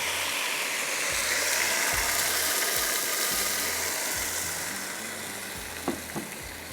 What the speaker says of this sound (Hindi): प्याज को यहाँ पे मैंने फ्राई करने रखा है